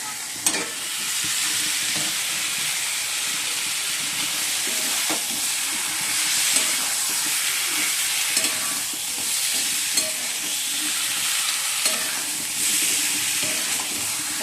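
Potatoes for an aloo dum sizzle in a hot kadai, a steady broadband frying hiss running throughout with occasional clinks and stirring scrapes, fairly close and with no talking.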